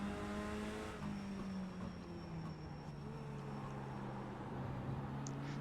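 Mini stock race car in iRacing at the Ringmeister circuit, engine revving with shifting pitched tones that rise and fall, steady and prominent with no speech.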